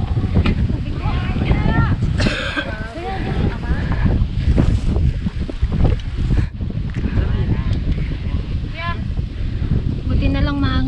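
Steady wind rushing and buffeting the microphone outdoors on a hilltop in Occidental Mindoro, Philippines, with people talking and exclaiming over it throughout.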